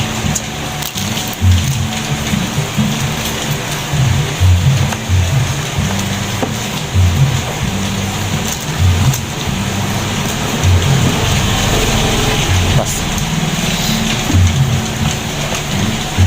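Steady rain pours outside during a rainy-day breakfast of chocolate rice, a dense continuous hiss with a low rumble, loud and constant throughout with no talking.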